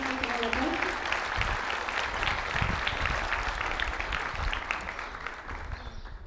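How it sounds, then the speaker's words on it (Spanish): A crowd at a high school graduation ceremony claps steadily and warmly for several seconds, the applause holding strong before tapering slightly at the end. "Les reitero el aplauso."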